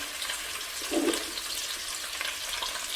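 Onion goes into a hot soup pot, giving a soft continuous sizzle with a brief louder burst as it hits, low and steady under a quiet kitchen background.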